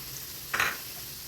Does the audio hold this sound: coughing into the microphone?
no